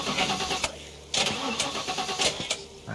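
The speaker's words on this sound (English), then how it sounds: "let's get the start car started" A car engine cranks and starts in The Last Stand Aftermath video game, with sharp bursts of cranking followed by the engine catching, loud and close with no talk over it.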